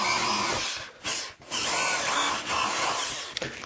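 A power drill whines loudly and steadily, bit grinding through wood, with brief pauses and dips as it stops and restarts between holes.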